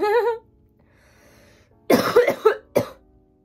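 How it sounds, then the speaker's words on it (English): A short vocal sound, a pause, then a burst of several harsh coughs close to the listener, ending with one final cough. "Stop coughing."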